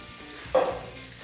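Clarified butter hits a hot pan for surf and turf with a sudden loud sizzle that swells and then settles into a steady crackling fry, heard alone without talk.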